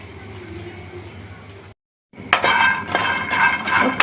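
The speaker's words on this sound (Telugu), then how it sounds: "ఈ బాండీలో నేను ఒక 200 గ్రామ్స్ పల్లీలు తీసుకొని వేసుకుంటాను." About 200 grams of peanuts poured into a kadai on the stove: a loud clattering rush of nuts hitting the metal pan after a short silence, with someone talking over it.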